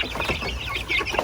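High, chirping peeps from three- to four-week-old native upgraded chicks, many overlapping in a steady, busy chatter close by.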